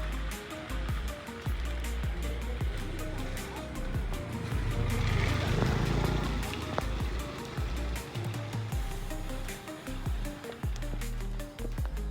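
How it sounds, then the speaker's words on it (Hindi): Fast, swollen river water rushing beneath a bridge, a broad continuous roar under faint background music. "ये देखो पानी कितना तेज आ रहा है।"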